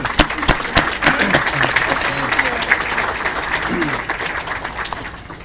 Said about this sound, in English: I think they deserve a big, big round of applause